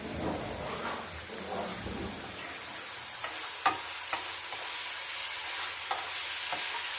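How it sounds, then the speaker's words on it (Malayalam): Crab sizzles as it is sautéed in a hot pan, loud stirring scrapes at first, then a steady quieter hiss with occasional taps of a utensil. "ഇച്ചിരി വഴട്ടിയിടുന്നു, വറുത്തല്ല വഴട്ടിയിടുന്നത്."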